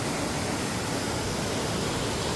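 A forest waterfall gives off a dense, steady roar of rushing water with no break or change across the moment, close and continuous.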